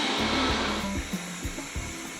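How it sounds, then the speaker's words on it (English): A Wyze robot vacuum runs across a living room floor and under a couch, a steady close whirring motor hum with faint periodic bumps and shifts in pitch as it moves. "the Wyze vacuum, is mapping out the living room again, going underneath the couch here"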